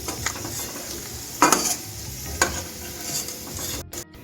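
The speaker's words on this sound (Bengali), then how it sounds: "দেখুন আমার নারকেলটা বাজা হয়ে গেছে এখন আমি তুলে নেবো" Fried coconut lifted out of hot oil in a pan while making cholar dal, steady sizzling with two sharp scraping clatters of the ladle, close and fairly loud, no talking.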